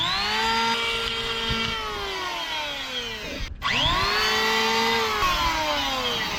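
A power tool chamfers the edges of a wooden boat's bow, its whining motor dropping in pitch as it bites into the wood. It briefly cuts out, then winds back up to a steady high whine.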